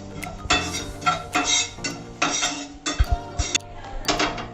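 Coriander, cumin, fennel and poppy seeds dry roasting in a pan, heard as repeated scraping and clinking of a utensil against the metal in uneven bursts, close and fairly loud, with no talking.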